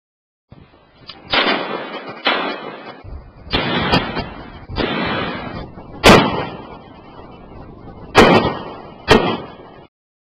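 Seven loud, sharp rifle impacts, AK-47 and AR-15 rounds striking 19 mm bulletproof laminated glass during a ballistic test, each crack followed by a brief ringing decay, spaced unevenly over several seconds.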